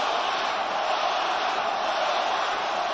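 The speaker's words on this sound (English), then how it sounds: "you can clearly hear a Loma, Loma, Loma chant" A huge crowd of about 17,000 at an MGM Grand boxing arena roars steadily for Lomachenko at a title fight, a dense, continuous wall of voices with no distinct chant rhythm.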